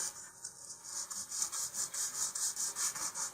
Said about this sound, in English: I'm going to put the sandpaper on a flat surface, and then just going to rock this back and forth